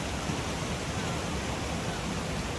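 A waterfall near Manali rushes with a constant, full hiss of falling water, steady and unbroken for the whole stretch.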